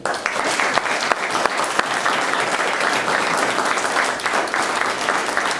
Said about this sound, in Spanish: despedirlo con nuestro aplauso